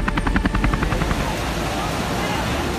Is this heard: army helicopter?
yes